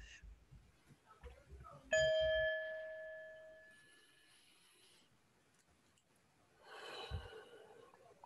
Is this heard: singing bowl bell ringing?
yes